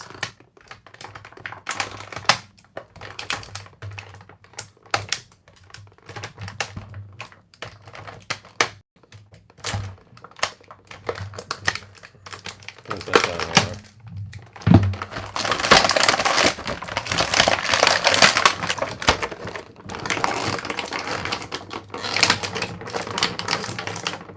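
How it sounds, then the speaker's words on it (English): Blade cutting a Masters of the Universe Beast Man action figure out of its packaging, close irregular snips, taps and plastic crunching, growing into louder scraping and tearing near the end. "let's go ahead and cut him out of this box"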